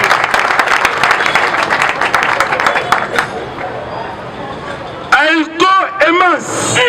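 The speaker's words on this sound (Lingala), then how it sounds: "acclamez encore pour le chef de l'État" Crowd at a political rally applauding the head of state, dense clapping and cheering for about five seconds, then crowd chants and shouts of several voices near the end.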